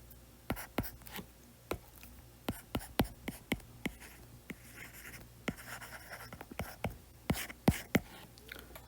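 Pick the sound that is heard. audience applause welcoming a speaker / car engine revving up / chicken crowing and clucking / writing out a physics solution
writing out a physics solution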